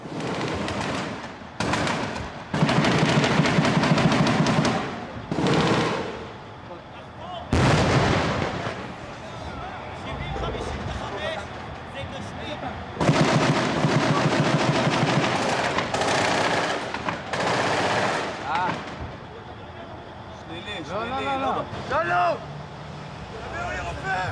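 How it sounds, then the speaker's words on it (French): Automatic weapon fire in a combat zone, soldiers firing back blindly: repeated loud bursts of rapid shots come in clusters through the clip, some overlapping, with gaps between volleys and voices faintly mixed in. "Et soudain les tirs reprennent, cette fois à l'arme automatique."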